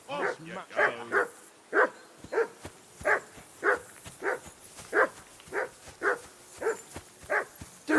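A dog barks repeatedly in Kingdom Come: Deliverance II, an irregular string of sharp barks at moderate distance, with no words spoken during it.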